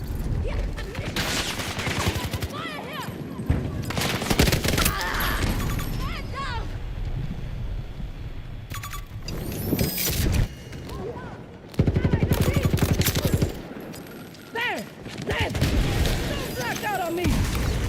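Sustained gunfire and explosive booms in Battlefield 2042, loud and dense with bursts throughout, while players talk over the fighting.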